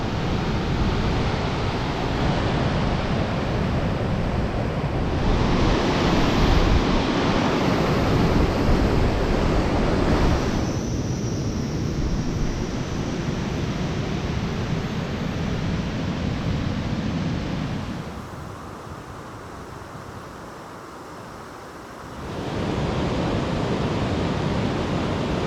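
Chap Falls, a waterfall on the Bloodvein River in the Manitoba wilderness, pours as a dense, broad roar with wind buffeting the microphone, dipping briefly quieter near the end before returning full.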